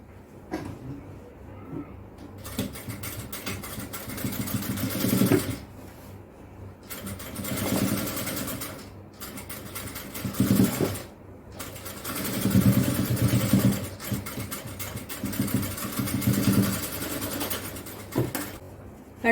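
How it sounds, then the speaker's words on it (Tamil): A sewing machine stitches puff shorts in a tailoring workshop, running in several steady bursts of mechanical whirring separated by brief pauses, fairly close and moderately loud. "இதுல இன்னொரு தையல் போட்டுடலாம்."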